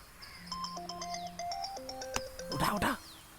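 A mobile phone ringtone plays a bright, chirpy electronic melody of quick stepping notes, followed by a short louder burst of rustling noise near the end.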